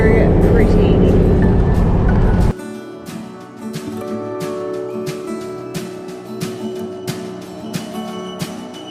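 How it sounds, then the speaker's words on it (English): A car drives along a country road between Dubbo and Newcastle, a steady low interior road rumble after a brief louder burst at the start, with a person talking over it. "We're just driving over from Dubbo to Newcastle, and the drive is so pretty."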